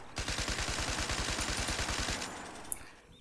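Rapid burst of automatic gunfire from a howitzer unit in a World War-era strategy video game, roughly twenty evenly spaced sharp reports over two seconds, loud and close, ending with a single click.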